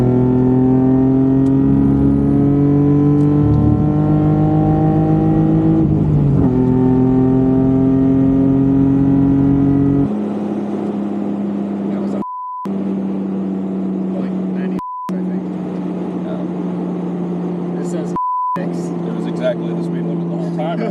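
A Toyota Supra's engine drones loud and steady on a rally drive through America's oldest rally, the vintage-class Press On Regardless, its pitch shifting as it climbs, then settling into a lower cruising hum broken by bleep tones.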